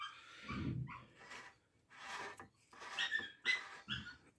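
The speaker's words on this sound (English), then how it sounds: "You hear my puppy in the background." A puppy's short whines and yips come in scattered bursts, fairly faint and close, with quiet gaps between them.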